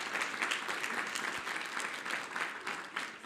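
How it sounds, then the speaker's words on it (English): A conference audience at DDD Perth applauds a speaker after a talk, a warm, steady patter of many hands clapping together, moderately distant and free of speech. "Please give another round of applause for the amazing Phil"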